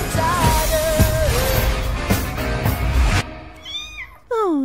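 A cartoon cat meows in a dubbed animated trailer for DC League of Super-Pets, rising and falling cries heard near and loud after a stretch of busy music and effects.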